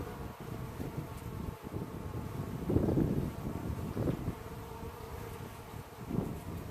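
Honey bees buzz steadily at the hive entrance during a fall nectar flow, a dense close drone with brief louder swells as individual bees pass near, mixed with light wind rumble.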